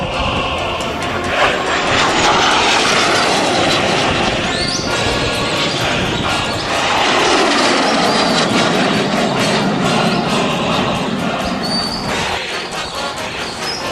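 An Aero L-39 jet coming back to land at Romilly airfield, its loud continuous engine roar and whine filling the air with broad rushing noise that swells midway and eases slightly toward the end.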